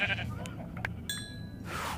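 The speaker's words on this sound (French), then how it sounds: "Ah, un mouton." A Minecraft sheep gives a short bleat in the game world, fairly quiet against a low background hum, with no speech over it.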